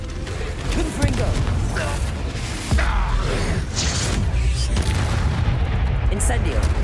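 A Confringo blasting curse goes off in Hogwarts Legacy as a loud, sustained booming explosion with crackling debris, and a voice briefly speaks over the blast.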